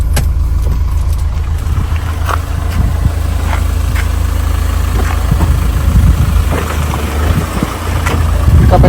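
A Mahindra Thar with a manual gearbox pulls away, its engine droning steadily and close up under continuous road and cabin noise, with no talk heard.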